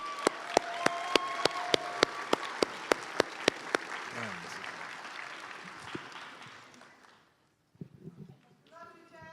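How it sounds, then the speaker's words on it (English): Graduation audience applauding, broad crowd clapping with a few sharp, evenly spaced loud claps standing out, fading out after about six seconds before a short stretch of talk. "Let's give them another applause."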